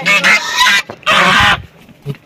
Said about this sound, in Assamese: হাঁহকেইটা দেখিছেনে কেনেকুৱা?